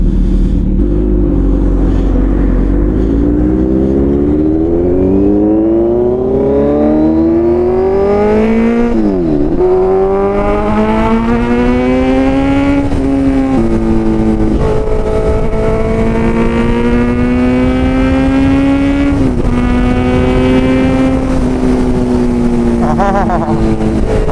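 Kawasaki Z900 motorcycle fitted with a loud Arrow full-system exhaust revs hard, its engine note climbing and falling through repeated throttle blips across a sustained, close, very loud roar.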